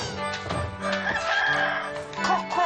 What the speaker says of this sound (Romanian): Cocoșu!